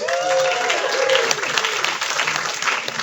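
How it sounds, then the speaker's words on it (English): Audience at a Halloween screening of John Carpenter's The Thing in Los Angeles bursts into steady, full applause, with a few cheers rising over the clapping throughout. "give yourself a round of applause"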